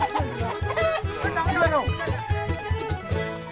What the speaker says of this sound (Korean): 닭 한 마리를 잡기 위해 장정 8명이 나섰는데요.